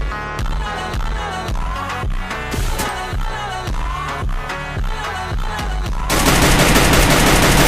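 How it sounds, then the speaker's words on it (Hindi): Video game gunfire, with rapid rhythmic bursts of automatic shots firing loud and close for about six seconds, then a dense, sustained roar of noise to the end, no voice heard. "मुझे नीचे से फायरिंग का आवाज़ आ रहा था"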